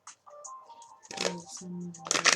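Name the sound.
shuffling tarot cards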